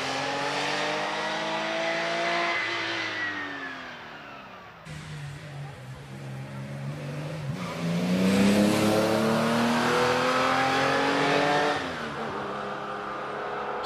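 Porsche race car at the Prescott hill climb, its engine note rising and falling as it accelerates and shifts through the climb, loud and fairly close, with a brief lull before it surges again.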